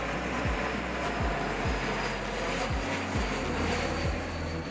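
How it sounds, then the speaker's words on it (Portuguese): An airplane passes low overhead near an airport in São Paulo, a loud, steady engine roar with pulsing throb that holds throughout. "passa o primeiro avião"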